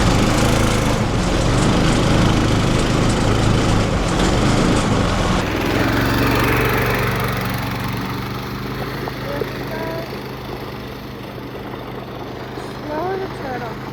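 A go-kart's small engine buzzing loudly while being driven, close and strained at first, then easing and fading as the kart moves off, with voices talking over it.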